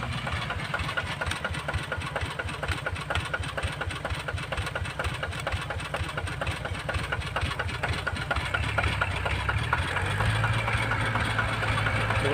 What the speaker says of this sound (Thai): ลองติดเครื่องเลยมันยังไม่หนักเท่าไหร่